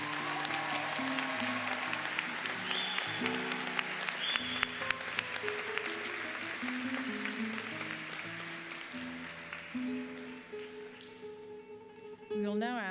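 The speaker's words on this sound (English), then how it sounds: "Let's give a round of applause to our science graduates." Sustained crowd applause for science graduates at a 2018 Cégep Heritage College graduation ceremony, many hands clapping steadily over a background of tonal music before the clapping thins out.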